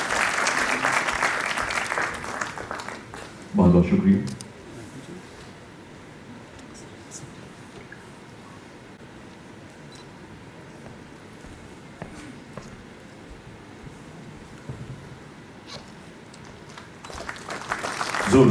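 Applause at a university regional convocation ceremony in Srinagar, a broad wash of clapping at the start and returning near the end, with a short burst of voices and a brief spoken thank-you between.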